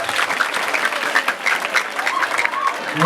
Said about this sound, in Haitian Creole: Applaudissez encore pour nous, s'il vous plaît.